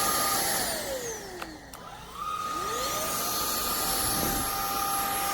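A SMOTURE cordless stick vacuum cleaner runs steadily with a high whine, its motor pitch dropping briefly and then rising back to a constant drone, with no talking.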